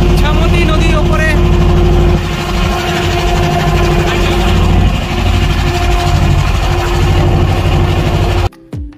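A motor boat engine drones loud and close on the Ichamati river, a steady low rumble that cuts off abruptly near the end.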